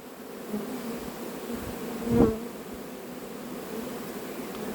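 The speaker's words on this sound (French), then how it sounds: "Un maximum d'abeilles qui battent le rappel." A honeybee swarm being collected into a hive at Varennes-sur-Seine buzzes in a continuous, dense drone, with a short louder swell as bees pass close by midway.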